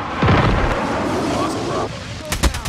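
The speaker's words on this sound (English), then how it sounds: "Napalm deployed." Napalm strike in a Call of Duty multiplayer match, a loud, sustained roaring explosion lasting a couple of seconds, followed by sharp gunfire cracks. A game announcer's voice is heard over it.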